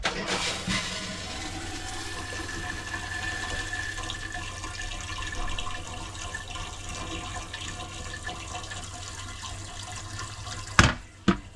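An RV trailer toilet flushes, with a steady low rush of water running through the plumbing, then a couple of sharp clunks of the flush valve near the end.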